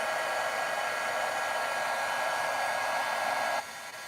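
Handheld heat tool blowing hot air over a craft card for stamping makes a steady, loud fan-like whoosh for about three and a half seconds before dropping abruptly to a quieter hiss as it powers down.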